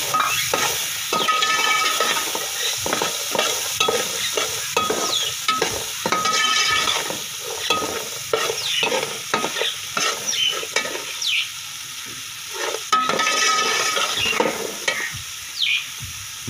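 Peas frying and being stirred in a pan with garam masala, turmeric, salt, red chilli and finely chopped green chilli, giving a steady close sizzle broken by repeated scraping stir strokes.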